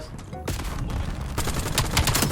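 Rapid bursts of automatic gunfire in Call of Duty: Black Ops 7 multiplayer, set in a futuristic 2035, rattle loud and close in several clustered volleys.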